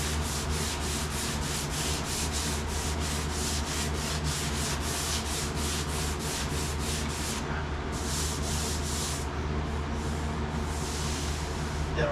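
Hand sanding to scuff dried, over-dry sprayed paint and dirt off metal: a loud, continuous rasping scrub in quick back-and-forth strokes, close by and without talk.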